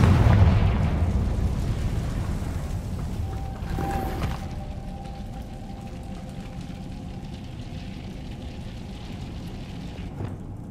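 A Confringo fire spell blast in Hogwarts Legacy opens with a deep rumbling boom that fades into a long low roar, with a thin tonal whine and a small late thump, loud and without talk.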